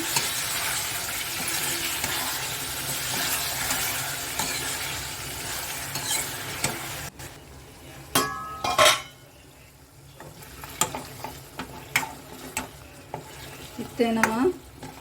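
Chicken ghee roast masala sizzles and fries in a pan, with scraping stirs and clinks of a spoon against the pan growing more distinct in the second half; no talking.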